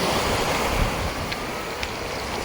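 Surf washes steadily onto Golden Beach in a bay on Thasos, a continuous broad hiss of breaking waves mixed with wind buffeting the microphone, fairly close and unbroken.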